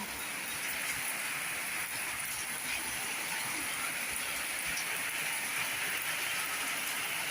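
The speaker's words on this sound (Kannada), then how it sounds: "ತುಂಬ ಜೋರಾಗಿ ಮಳೆ ಬರ್ತಾ ಇದೆ" Heavy rain pours down steadily, a dense, even hiss of water hitting surfaces all around, with no voices.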